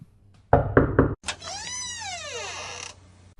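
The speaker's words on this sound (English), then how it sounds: "3 loud, heavy knocks were heard at the door" Three loud, heavy knocks at a door in quick succession, followed by a creaking, sweeping mechanical sound as the door slowly opens.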